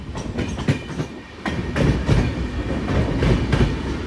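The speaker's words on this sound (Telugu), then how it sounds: "ఫస్ట్ టర్న్లోకి ఎంటర్ అయిపోయింది మన ట్రైన్" Rhythmic clickety-clack of the Karwar Express running over rail joints on a turn in the Sakleshpur ghat section, loud and close, with a steady rumble beneath the repeated beats.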